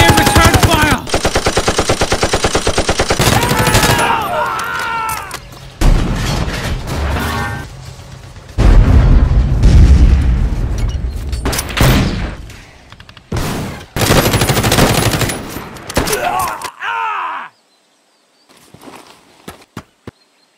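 Sustained bursts of machine gun fire crackle loudly through a toy army men stop-motion battle, interrupted by booms and short pauses, then stopping near the end.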